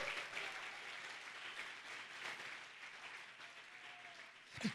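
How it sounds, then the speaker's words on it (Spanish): A church congregation applauds, a steady, fairly faint wash of many hands clapping for several seconds with a brief sound at the very end. "Dale un aplauso fuerte al Señor Jesús."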